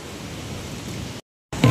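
Steady broadband roar of surf, like waves washing in, cuts out briefly then returns with a louder crash.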